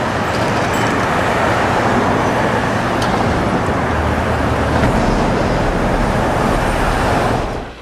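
Dense, continuous roar of road traffic, loud and steady throughout with no distinct individual vehicles standing out.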